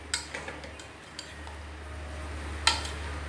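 A spoon stirs a paneer and lettuce salad in a bowl, making a few sparse, light clinks and taps against the bowl. The sound is quiet and close, with no talking.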